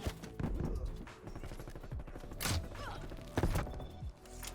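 An R1 Shadowhunter crossbow fires in a video game, producing a series of sharp, punchy shots and thuds spaced irregularly over busy game sound, each release followed by a brief impact.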